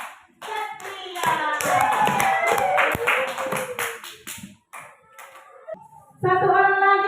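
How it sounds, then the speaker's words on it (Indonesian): Children in a classroom clap for a classmate, a busy mix of close hand claps and chatter, with young voices talking and shouting over and between the clapping. "Iya, tepuk tangan buat Satria."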